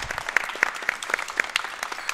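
Several hands clap in an even, steady rhythm, about four claps a second, close and moderately loud, after a boss is defeated during a Castlevania: Symphony of the Night speedrun.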